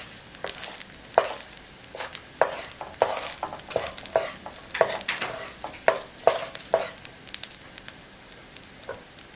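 Kimchi stir-fried with egg in a pan, with soft sizzling under a steady series of spatula scrapes and taps against the pan, close and quiet with no talk.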